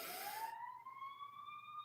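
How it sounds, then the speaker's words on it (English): A siren wails outdoors, its tone rising steadily and clearly audible through a brief burst of broadband noise at the start, with no one speaking. "there is a siren going off"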